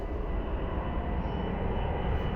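An airplane takes off from an airport runway with a steady, loud engine roar that dominates throughout and carries broad low rumble.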